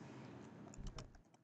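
Brief, faint patter of keystrokes on a computer keyboard, a few quick clicks over a steady background hiss.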